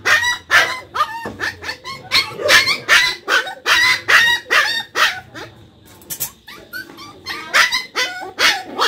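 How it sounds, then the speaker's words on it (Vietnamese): A puppy barks in a rapid run of sharp, loud yaps close by, pausing briefly midway before starting again just as insistently. "Gì sủa dữ Phú?"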